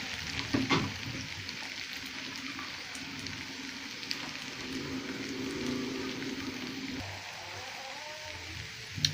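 Egg noodles frying in oil in a pan give a steady, quiet sizzle that runs throughout, with a brief clatter near the start and a soft scrape toward the end.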